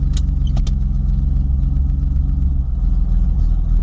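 A 1976 Ford Mustang II Cobra engine runs steadily on a test drive, with a loud, continuous low rumble throughout and a few brief clicks near the start, and no talking.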